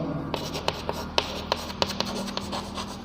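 A hand writes on a board for a science lesson on the nervous system, making a close run of scratchy strokes and light taps in quick irregular rhythm over a constant background hum, with no talking.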